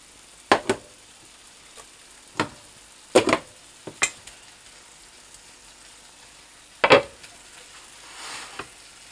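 Prawns frying in a pan with garlic and ginger, with sharp sporadic spits and crackles over a low steady sizzle, close by and with no voices.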